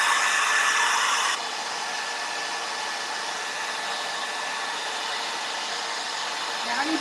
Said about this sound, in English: let's blow dry this